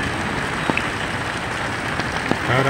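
Steady rain falls over a flooded barangay street in Bulan, Sorsogon, Philippines, after two days of rain, a dense continuous hiss with a few brief sharper taps.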